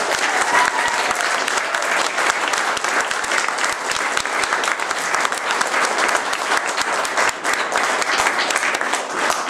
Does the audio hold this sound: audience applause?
yes